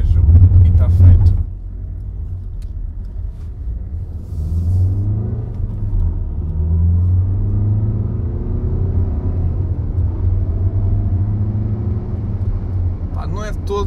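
Volkswagen Tiguan 1.6 TDI diesel from 2016, driven on a dirt road in rural Alentejo, with a low, steady engine and road rumble from inside the cabin throughout, under someone talking.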